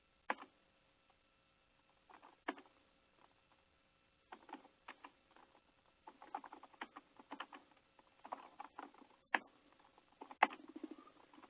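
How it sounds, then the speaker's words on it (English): A computer keyboard is typed on in irregular bursts of quiet, close clicks and taps, with short pauses between runs of keystrokes and no talking. "Just trying to save time on typing that thing up."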